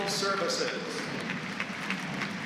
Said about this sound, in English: the crowd is full of applause